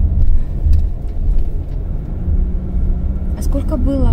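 A car drives along an empty road on a cold morning, its steady low engine and tyre rumble continuous and close, with a voice briefly heard near the end.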